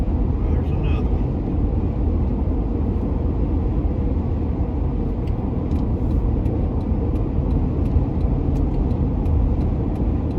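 Steady highway traffic roar heard from inside a moving car, with a Tesla among the vehicles around, a dense constant rumble running the whole time under people talking.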